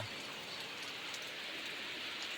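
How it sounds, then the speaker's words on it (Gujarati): Continuous dense rain hiss, even and unbroken, a steady wash of falling water with no voices. "વરસાદ વધારે છે મિત્રો"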